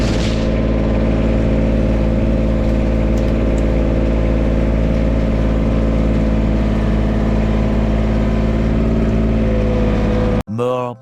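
A tractor engine runs steadily and close by, a loud low drone with a sustained rumble that holds the whole time, then cuts off sharply near the end before a brief burst of other noise.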